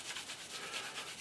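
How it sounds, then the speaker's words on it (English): Tissue is rubbed repeatedly over a Seafire XV scale model to lift excess wash, giving faint, close, rhythmic soft scrubbing strokes with no voices. "keep going over the model with fresh bits of tissue, getting as much of the excess off as you can"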